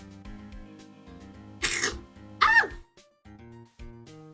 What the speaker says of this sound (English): I need to sneeze, hold on.